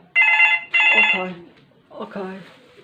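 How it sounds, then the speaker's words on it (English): A telephone rings twice in quick electronic trills, close and clear, followed by a voice speaking. "Oh, the phone is just ringing."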